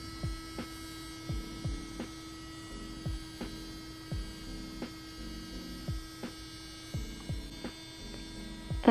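A Melodysusie Atena cordless nail drill running at 25,000 RPM gives a steady high-pitched electric whir, with faint periodic clicks and low thumps repeating underneath at a regular pace.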